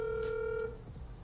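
Telephone keypad tones sound from a phone being dialed to place a call, a single clear tone held for about half a second and then fading into a quiet room.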